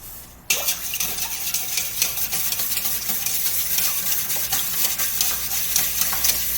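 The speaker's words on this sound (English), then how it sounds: "I'm going to beat them with a whisk until they're entirely blended with milk" A whisk beats three eggs with milk in a bowl, giving a steady, busy scraping and sloshing that starts abruptly and keeps an even pace throughout, close up and with no talking.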